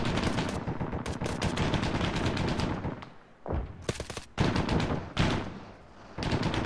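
Machine gun fire in the Arma 3 video game, loud rapid automatic bursts in long strings, broken by a few short pauses.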